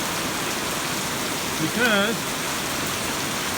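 Steady rain falls outdoors in a continuous hiss, with a brief spoken word partway through.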